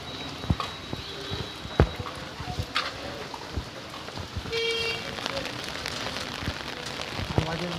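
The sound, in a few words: heavy rain falling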